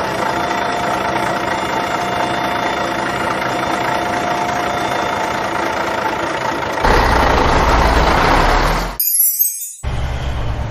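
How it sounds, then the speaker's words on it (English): A dump truck engine runs in a steady, loud rumble that grows heavier and deeper toward the end, broken by a brief bright jingle before the engine noise resumes, with no voices. "Dump truck."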